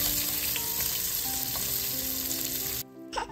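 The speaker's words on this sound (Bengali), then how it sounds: "এবার রান্নার শুরুতে আলু এবং ডিম ভাজতে দেখে বুঝতেই পেরেছেন যে কি বানাবো" Potatoes and eggs fry in hot oil for Kolkata-style chicken biryani, giving a dense, even sizzle up close that cuts off abruptly near the end, followed by a brief faint clatter.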